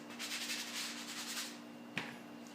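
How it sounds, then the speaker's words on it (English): Light scuff sanding on a polyurethane-finished maple wood phone holder, a soft steady rubbing rasp for about a second and a half, fairly faint, ending in a single short knock. "I'm just going to scuff sand it a little bit"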